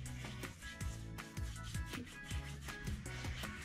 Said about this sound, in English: I just spent a couple minutes really just rubbing it in there, scrubbing it